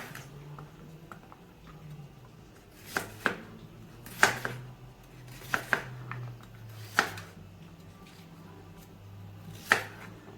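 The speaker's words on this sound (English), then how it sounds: "So I'm gonna cut up this coconut." A knife chops through a large dry coconut outdoors in a yard kitchen, sharp isolated cracks and thuds landing at irregular intervals over a low background hum.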